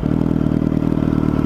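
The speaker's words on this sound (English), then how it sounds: "aftermarket exhaust on it, which sounds the nuts, and like, it's loud" A 2004 Suzuki GSX-R 600 engine with an aftermarket exhaust runs loud and close, with a dense, rapid throbbing exhaust note held steady throughout.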